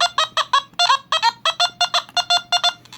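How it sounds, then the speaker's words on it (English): Rapid, evenly spaced electronic beeps from a Nokta Simplex metal detector in field mode repeat steadily throughout, each a short bright tone, close and fairly loud. "If I put it in field mode,"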